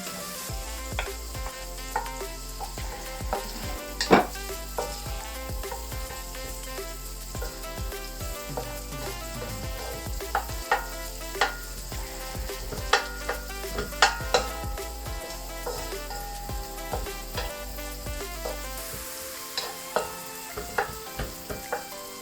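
Garlic and onion sauté in butter with a constant close crackling sizzle, punctuated by repeated sharp taps and scrapes of a spatula stirring against the pan, no voices.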